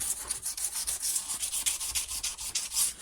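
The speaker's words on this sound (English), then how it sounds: "I like giving the underside where the blades mate with just a light little sand" Steady rhythmic rubbing strokes of fine 400 to 600 grit wet and dry paper lightly sanding the pitted underside of a Stihl HLA 56 hedge trimmer blade where the blades mate, close and continuous without speech.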